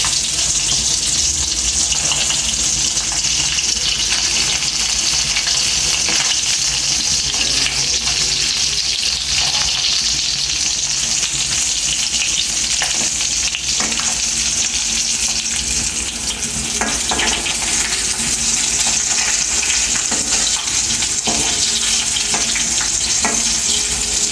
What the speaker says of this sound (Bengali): মাছ ভাজা শেষ এখন মাছ ভাজা তুলো নামানো হচ্ছে সুন্দরভাবে ভাজা হয়েছে